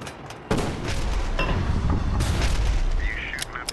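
Tank cannon fire in the video game Battle Supremacy, with a heavy boom at the start followed by rumbling blasts and battle noise, loud and close, ending with a brief electronic chirp.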